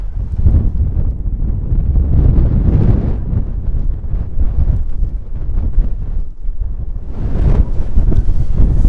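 Strong wind on the open hilltop of Black Hill buffets the microphone in a steady, loud, low roar that gusts and swells throughout, with no voices.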